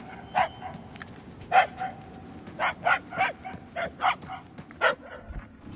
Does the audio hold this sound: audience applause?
no